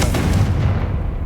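A Confringo blasting spell explodes in Hogwarts Legacy, a loud, close booming burst with a heavy low rumble that decays over about a second.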